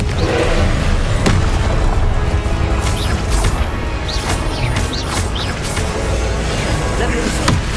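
Confringo explosion spell in a Harry Potter video game, a dense stretch of loud blasts and crashes one after another, with a voice calling spell names over the din.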